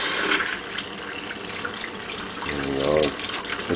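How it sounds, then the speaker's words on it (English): A kitchen faucet hooked to a small sealed turbine generator runs, a loud steady rush of tap water with a gurgling swell near the end, with a voice briefly audible. "Okay, we just hook this up to the faucet, water pressure. Turn on the faucet."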